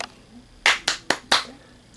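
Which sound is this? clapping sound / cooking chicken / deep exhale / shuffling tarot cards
clapping sound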